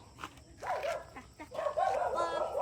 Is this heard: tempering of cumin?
no